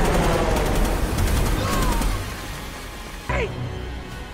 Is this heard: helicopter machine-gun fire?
yes